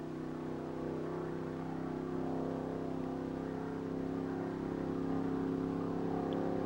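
A 1951 Bonneville Streamliner hot rod runs at speed, pacing a camera car at 80 to 100 miles per hour, its engine a steady, continuous drone heard alone from start to finish.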